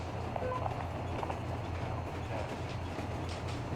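An armoured train in the video game Metro Exodus rumbles along with a steady low mechanical drone and rhythmic wheel clatter, sustained and moderately quiet.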